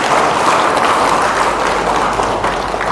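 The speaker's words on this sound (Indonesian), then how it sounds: "Tepuk tangan untuk Kepolisian Republik Indonesia." Dense, steady applause from a large audience at an Indonesian religious lecture, honoring the Indonesian National Police, loud and continuous throughout.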